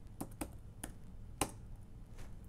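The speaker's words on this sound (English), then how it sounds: "what I'm going to do is type af info space" Several quiet, crisp key taps on a computer keyboard as a terminal command is typed on a Mac, irregularly spaced over about two seconds in a quiet room.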